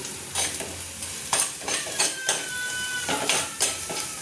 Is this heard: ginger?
yes